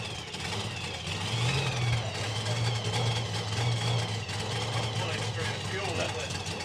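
A drag racing car's engine runs rough and fuel-starved at a nostalgia drag event, a steady low droning rumble lacking its usual crackle, heard steadily under a commentator's talk.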